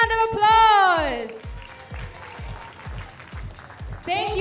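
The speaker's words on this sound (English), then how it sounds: "Let's give them another round of applause." Crowd applause rises for the players after a mixed doubles tennis match at the 28th SEA Games in Singapore, at an outdoor center court. It sounds as steady, rhythmic clapping between an announcer's voice at the start and the end.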